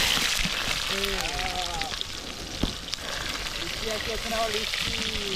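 Onions sizzling in hot oil in a pan at the start of a crab curry, a steady crackling hiss with faint bird calls over it.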